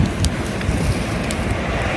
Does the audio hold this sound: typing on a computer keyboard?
no